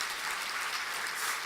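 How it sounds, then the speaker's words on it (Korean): An audience applauds during a Sunday evening church service, a dense, even wash of clapping that sounds faint and distant and keeps steady throughout. "박수 한번 보내주셔야지."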